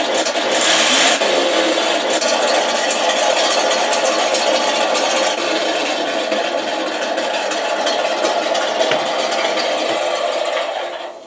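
Gearboxes of a radio-controlled model tank whir during a receiver test, a loud, steady mechanical drone held evenly for several seconds before cutting off.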